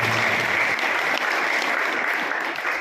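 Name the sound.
audience applause at memorial event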